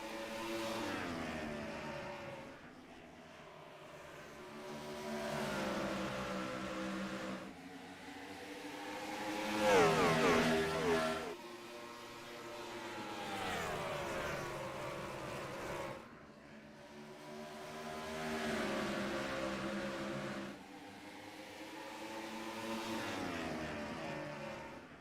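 ARCA race cars lapping Richmond Raceway in the iRacing sim, with engine notes rising and falling in repeated sweeps as cars pass. The roar swells loudest near the middle, then recedes and returns, continuous throughout.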